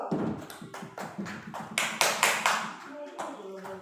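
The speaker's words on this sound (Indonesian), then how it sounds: "Tepuk tangan dulu ibu" Small group of women clapping hands together at a teachers' training session, a few seconds of steady, moderately close claps with a voice speaking over them.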